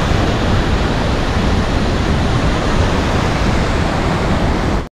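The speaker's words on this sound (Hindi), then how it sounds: "असली इंजॉय यहीं पे है जो वाटरफॉल का।" Khedi Waterfall near Maneri Dam in Uttarakhand, a loud, constant broadband roar of rushing water close by, steady throughout before cutting off abruptly at the end.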